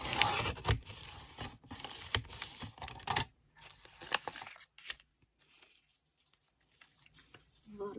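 A piece of recycled card is cut to size, with crisp snipping and clicking sounds close up for the first few seconds, then quieter, sparser rustles and snips.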